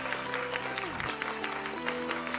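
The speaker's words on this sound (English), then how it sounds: "Bring applause up." Studio audience applause rising in a television studio during a talk show broadcast, moderately faint clapping mixed with tonal music or program sound that shifts pitch midway.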